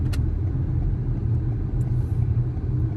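Cars pass by outside on a busy street, a loud continuous low engine rumble with traffic noise steady throughout the clip, heard alone without talk.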